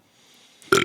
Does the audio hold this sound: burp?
yes